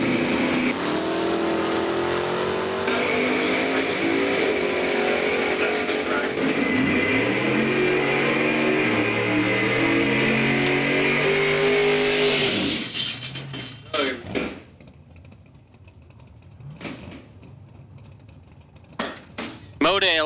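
Drag racing cars at a dragway, a Monte Carlo and a Mustang, roar loudly in sustained engine noise with shifting pitch, then fade after about thirteen seconds to quieter sharp bursts, under a commentator's talk.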